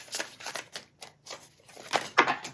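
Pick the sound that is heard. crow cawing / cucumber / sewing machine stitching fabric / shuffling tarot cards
shuffling tarot cards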